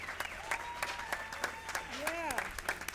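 Audience applause for the marching band fills the space at a steady level, with voices and whistles rising through it and someone talking over the clapping.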